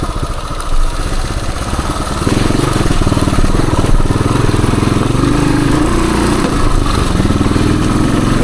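A 1978 Suzuki DR370 trail motorcycle chugs uphill at low revs, its engine loud and close in a steady thumping drone that grows fuller as the throttle opens.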